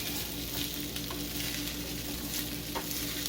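Fried rice sizzles steadily in a non-stick pan while being stirred, some of it sticking to the surface, a close and continuous frying hiss with small scraping stirs.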